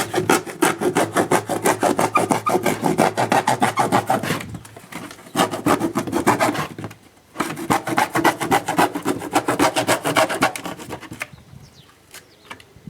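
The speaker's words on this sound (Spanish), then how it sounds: "Ya estamos casi terminando de cortar el cuadrado, lo cortamos y seguimos." A square being cut out of a cardboard box with rapid rhythmic rasping strokes close up, in two long bursts separated by short pauses, trailing off at the end.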